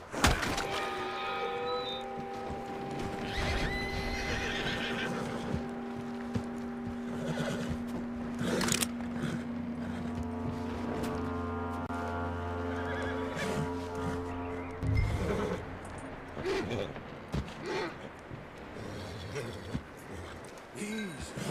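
A horse whinnies and snorts over a sustained musical score in the video game Red Dead Redemption 2, with hoof clops and thumps scattered throughout and brief voices mixed in.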